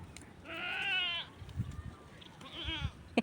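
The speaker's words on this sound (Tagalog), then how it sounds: "Isang kambing doon na inahin." A mother goat on a small farm bleats twice, a long wavering cry followed by a shorter one, with faint thumps and background noise between.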